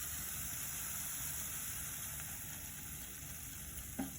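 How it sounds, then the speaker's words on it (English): Onions and chili with scrambled eggs sizzle in a pan, a constant crackling hiss at moderate volume, ending with a single sharp clink near the end and no voices. "All right, these have been sizzling for a while, so I'm gonna add in my 2 scrambled eggs."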